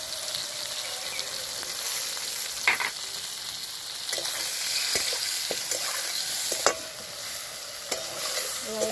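Green chili and ginger paste frying with Kashmiri chili in a pan for a pabda fish curry with potato and eggplant, a steady close sizzle broken by a few sharp spatula scrapes and clicks.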